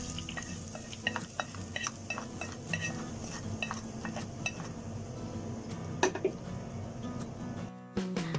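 Spoon and utensil clatter against a pan while a golden-brown tempering is stirred for beetroot pachadi, with a low sizzle underneath and a final louder pour-and-hiss near the end.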